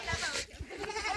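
A goat bleats in a village yard while being led toward its pen, with short nasal calls up close and voices mixed in.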